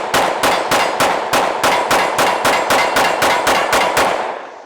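Rapid gunfire from a Smith & Wesson M&P Carry Comp pistol with a performance trigger. About fourteen loud, sharp shots come close together at an even, fast pace, and each one leaves a short echo before the string stops.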